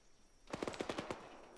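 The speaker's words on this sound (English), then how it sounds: "Shot fired." A rapid burst of about eight automatic gunshots cracks out in an Arma military video game, fairly distant and faint, with no talking.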